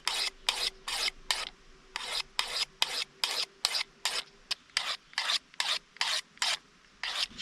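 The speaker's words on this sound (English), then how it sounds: "Now I will go through a couple of times with the diamond side of this work sharp tool." A knife blade is drawn over the diamond side of a Work Sharp sharpener in about twenty quick, evenly spaced rasping strokes, close and crisp, with no talking.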